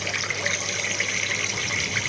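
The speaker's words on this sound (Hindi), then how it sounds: "जौ का दलिया हमने हाफ कप लेकर इसको 2 मरतबा पानी से अच्छी तरह से धो लेना है।" Running water from a tap washes half a cup of barley porridge grains in a kitchen, a steady close splashing flow that continues alone with no talk.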